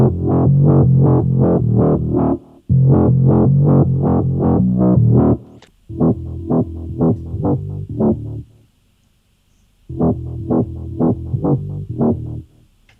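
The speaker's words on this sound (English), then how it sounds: "The Womp Bass is a classic sound in drum and bass." A synthesized womp bass for drum and bass plays loud, repeated wobbling phrases with rhythmic pulses, stopping and restarting between sections, with no voice.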